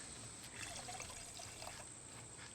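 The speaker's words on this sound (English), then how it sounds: "So I'm gonna pour that in my blender to make sure that I get out all the goodies." Strong coffee pouring into a blender jar in a kitchen, a soft, steady trickling stream running continuously at low level without speech.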